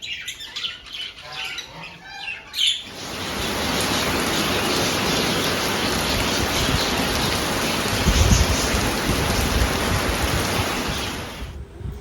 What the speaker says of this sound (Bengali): দেখো খুব জোরেই বৃষ্টি এসে গেছে